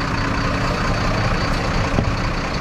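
A vehicle engine rumbles steadily and loudly throughout, a continuous close drone with no pauses and no voices.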